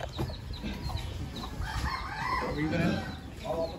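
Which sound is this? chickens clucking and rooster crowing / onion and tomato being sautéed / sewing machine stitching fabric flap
chickens clucking and rooster crowing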